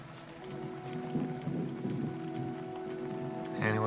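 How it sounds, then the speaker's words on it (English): Steady rain falls outside a house, a dense continuous patter with a faint low rumble like distant thunder, holding at an even level before a brief voice or tonal sound rises at the very end. "The rain."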